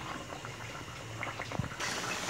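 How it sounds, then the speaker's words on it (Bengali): Tomato and hilsa fish curry bubbles in a pot with a continuous soft burble and small pops, close and steady throughout. "টমেটো সিদ্ধ হওয়া পর্যন্ত ওয়েট করব"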